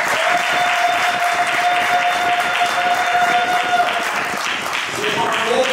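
A wedding congregation applauding during a church blessing, dense sustained clapping from a crowd throughout, with a voice speaking over it.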